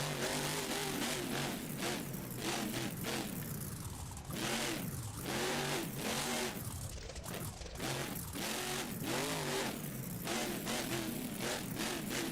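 Avenger monster truck in the BeamNG video game at a Monster Jam stadium event in Tampa, engine revving and shifting through gears with repeated rising and falling pitch sweeps, loud and continuous.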